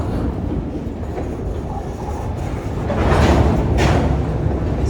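Graffiti-covered train cars roll backwards past at close range in Parkersburg, giving a loud, steady rumble with rail clatter and brief metallic squeals that swell toward the end.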